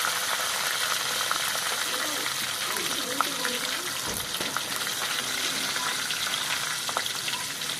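Garlic, dried chillies, cashews, almonds and onions fry in hot oil for palak paneer, giving a steady, close, continuous sizzle with occasional stirring clinks.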